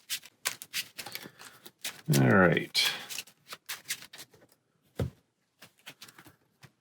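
Marvel Champions cards being shuffled, a quick riffle of card snaps followed by scattered taps and shuffling, close and fairly quiet, with a brief spoken remark over it.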